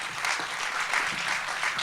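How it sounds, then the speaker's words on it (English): Audience applause for panelists taking the stage at a conference plenary session, a steady wash of clapping from a seated crowd, fairly even and continuous for a couple of seconds. "please, applause"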